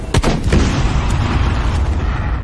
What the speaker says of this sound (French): Joe fait exploser le poste de police.